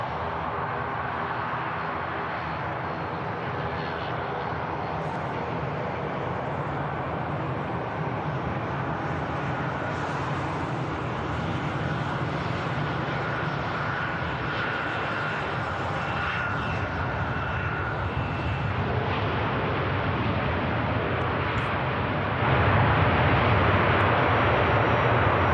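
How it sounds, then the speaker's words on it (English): An Airbus A350 at Manchester Airport, a long steady roar of jet engines, broad and constant, rising slightly louder near the end. "Oh, gorgeous aircraft, this."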